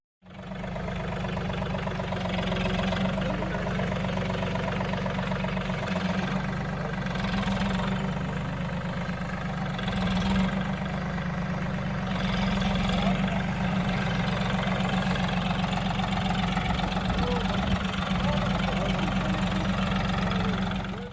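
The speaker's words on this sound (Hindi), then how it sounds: "इस मौके पर खुद यशोमती ठाकुर ने ट्रैक्टर चलाया।" A tractor engine runs at an agricultural equipment handover event in Amravati, India, a steady low idling rumble that continues unbroken for about twenty seconds, moderately close with a faint background of voices.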